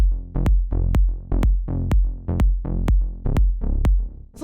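Progressive melodic techno kick and bass bus playing together: a punchy four-on-the-floor kick repeating about twice a second, each hit followed by a rolling, swelling bassline, loud and alone.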